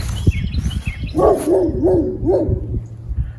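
A neighbor's dog outdoors in a garden barks in a quick run of four or five harmonic barks at moderate distance, over light background noise and rustling.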